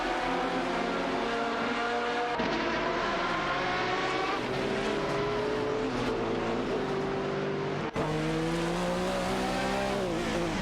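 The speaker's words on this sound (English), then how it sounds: "MYST 149 in the Lamborghini Murcielago RGT is in a fierce battle with Electric Mary in the Ferrari 550 GTS for the 22nd position." Racing cars in a video game, a Lamborghini Murcielago RGT and a Ferrari 550 GTS, drone loudly with steady high engine tones whose pitch rises and falls through gear changes, with one sharp drop near the end.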